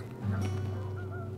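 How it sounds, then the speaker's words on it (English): Canada geese flying past outdoors give a single drawn-out, nasal honk that holds steady for about a second, faint and somewhat distant. "those are very obviously Canada geese. Yeah. That are flying past."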